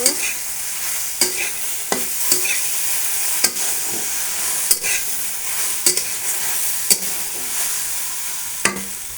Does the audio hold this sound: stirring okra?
yes